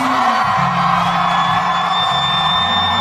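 Comedy show audience cheering, whooping and yelling together as a loud, continuous wall of crowd noise, with individual shouts rising out of the roar throughout.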